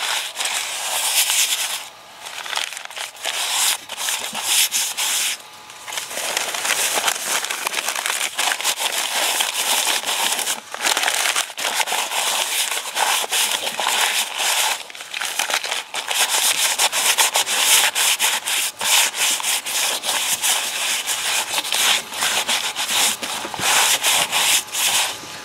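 Rusted cast iron coated in wet oven cleaner being scrubbed to clear out gunk, a loud, continuous gritty rubbing and scraping with short pauses between bursts of strokes.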